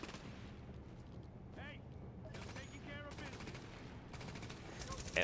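Automatic gunfire crackles in Tom Clancy's The Division during a Dark Zone beta match, with several rapid bursts of varying length at moderate distance and brief voices speaking in between.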